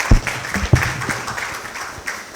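An audience at a national stakeholders' dialogue event claps, a loose spread of hand claps with a few louder close slaps at first that fade into a softer patter.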